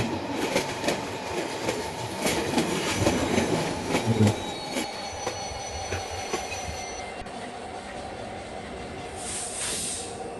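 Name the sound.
train running in Train Simulator Bangladesh video game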